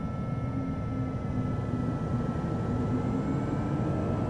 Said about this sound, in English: Here come our engines.